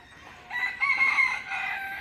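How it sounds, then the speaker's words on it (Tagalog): A rooster crows loudly and close by, a long drawn-out call with no talking. "Tapos yan po, mga manok, mga tandang."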